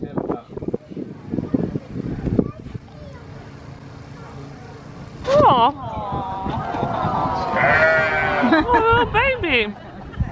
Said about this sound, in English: This breed of sheep is the world's smallest breed of sheep.